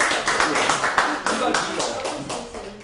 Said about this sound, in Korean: 박수 한번 확실히 치세요.